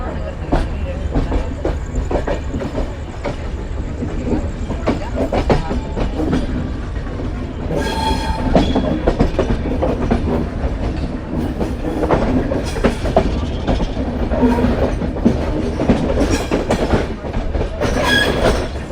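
A passenger train pulls out of Ambala Cantt station, its wagons rumbling and wheels clattering steadily over the rails, loud and close from on board, with occasional squeals, a brief metallic ring, and faint voices in the background.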